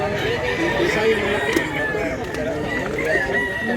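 A five-month-old rooster, a young cock bred for fighting, calls repeatedly at close range through steady barnyard noise, with people talking in the background.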